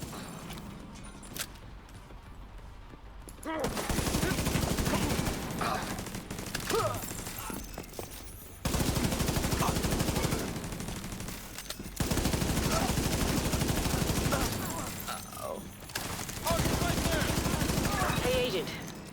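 Bursts of rapid gunfire firing shock rounds in a shooter video game, long loud volleys broken by short pauses, with a voice talking over parts of it.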